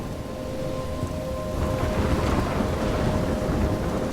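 Stormy weather in the video game Life is Strange: a steady roar of wind and rain with low rumbling thunder that swells midway, heard alone without speech.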